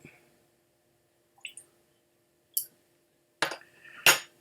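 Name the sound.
water being added to a glass of whisky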